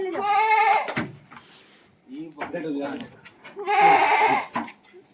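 Kathiawadi goats bleat loudly and close by in two long wavering calls, with a few shorter bleats between them, while people talk nearby during a late-night sale of a truckload of goats.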